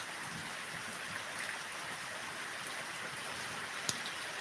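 Heavy rain falls on an unpaved rural spot, a faint, steady hiss of dense drops with one brief sharp tap near the end.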